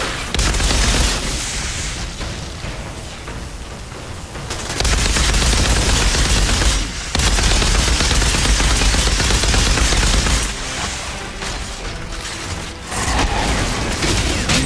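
Heavy gunfire from the Twisted Bullet skill in the shooter Outriders pounds in loud, sustained bursts with brief lulls, dense and continuous.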